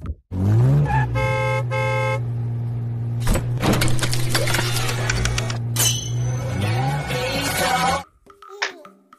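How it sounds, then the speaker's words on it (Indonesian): A toy Lamborghini race car plays loud electronic engine revving and horn toots, with sustained tones and bursts, before falling quiet near the end. "Yang ini mobil balap Lamborghini."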